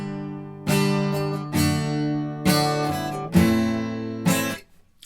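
Acoustic guitar through a GarageBand natural strum preset with EQ and compression, for a slow ballad: five full, ringing strummed chords spaced about a second apart, each left to sustain, played alone and closely.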